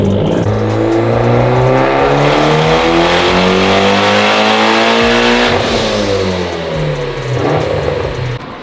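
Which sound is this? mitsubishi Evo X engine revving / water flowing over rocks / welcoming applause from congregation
mitsubishi Evo X engine revving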